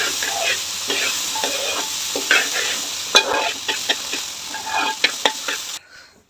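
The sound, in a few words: rice being dry-fried in a pan until its water evaporates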